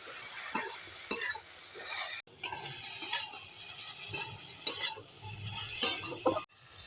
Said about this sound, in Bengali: ভেন্ডিগুলোকে ভালোভাবে ভেজে নেব।